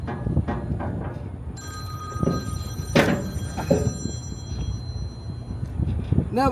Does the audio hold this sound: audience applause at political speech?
no